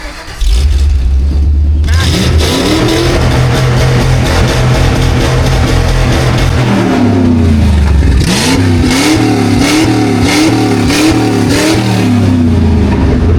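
A heavy old Ford truck engine revs hard in repeated surges, roaring loud and close with a rough, throaty tone that rises and falls.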